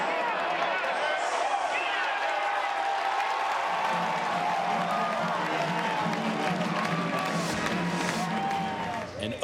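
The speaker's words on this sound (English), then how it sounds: "Let's take a listen to the home run and the crowd reaction" A large crowd at Patterson Stadium in Louisville, Kentucky, cheers and applauds after a home run in a UC Santa Barbara vs Louisville college baseball game. The roar is sustained and moderately distant, and a commentator talks over it.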